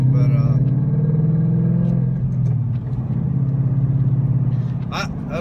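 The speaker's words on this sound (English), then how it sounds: "it seems to idle really deep. Idles real deep." A 2015-17 Ford Mustang GT V8 with a Stainless Works catback exhaust idles with a deep, steady burbling rumble, close and loud throughout, and a few faint higher sounds toward the end.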